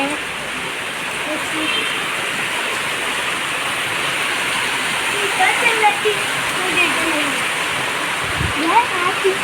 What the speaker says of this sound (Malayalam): ഫോൺ എടുത്ത് വന്നപ്പോഴേക്കും മഴ ചെറുതായി ഗൈസ്